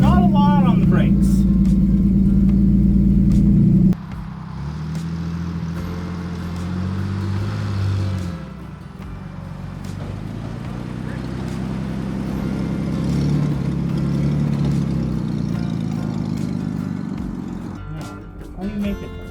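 An old DeSoto car being driven for the first time in years, its engine droning and shifting pitch as it moves off after an idle, with people talking over the motor.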